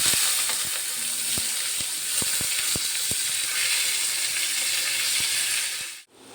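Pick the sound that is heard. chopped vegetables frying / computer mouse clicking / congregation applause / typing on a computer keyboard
chopped vegetables frying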